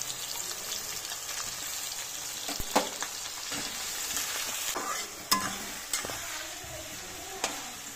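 Onions fry in a pan for Bengali mutton kosha, cooking until browned. A soft, continuous sizzle runs throughout, broken by a few sharp clinks and scrapes of a stirring utensil against the pan.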